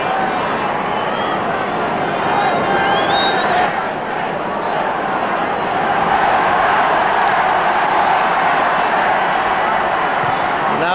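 Home crowd of Clare supporters roaring at a 1993 GAA Division One league semi-final Gaelic football match against Donegal, a broad, steady wall of distant cheering and chanting that holds throughout.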